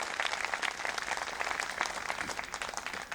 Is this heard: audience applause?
yes